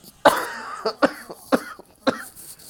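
A series of harsh, dry coughs, about four or five in a row, close and fairly loud, with short pauses between them.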